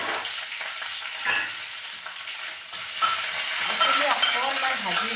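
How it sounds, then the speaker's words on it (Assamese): Onion sizzling in hot oil in a pan, with scraping stirring strokes and a continuous close frying crackle throughout. "তাৰপিছত দিম মই পিঁয়াজ"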